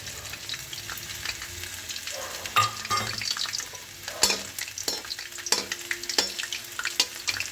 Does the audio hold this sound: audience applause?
no